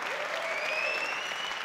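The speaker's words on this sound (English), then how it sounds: "Crowd going ballistic." Squash spectators at the Windy City Open break into loud, sustained cheering and applause that fills the venue, with excited shouts rising over the clapping throughout.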